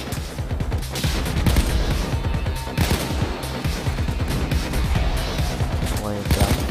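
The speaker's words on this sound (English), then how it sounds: "I'm going to be up here taking out the cop." Gunfire in the Payday 2 shooting game crackles in dense, rapid bursts of shots and automatic fire, loud and continuous under a voice talking over it.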